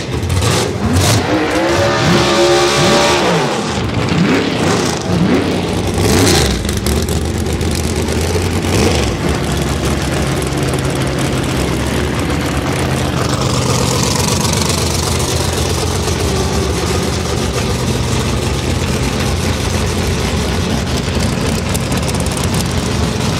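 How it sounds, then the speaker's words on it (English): A Corvette race car launches in a drag race at the Wooostock 2022 event. A very loud engine revs in rising sweeps, then roars steadily at full power close by. "Plan B gets the break on the Corvette, y'all."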